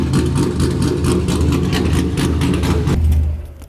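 An LS V8-swapped Mazda Miata idles loudly up close, a deep steady rumble with a lumpy low throb, lasting a few seconds before cutting off abruptly at the end.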